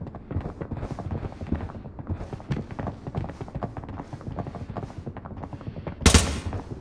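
Gunfire in an online battle-royale shooter, rapid repeated shots in a rhythmic burst-like pattern from mid-distance, ending in one loud close blast.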